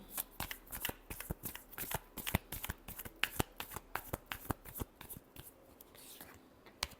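A deck of tarot cards being shuffled up close, with a rapid, steady run of crisp riffling flutters and snaps lasting several seconds, no voices.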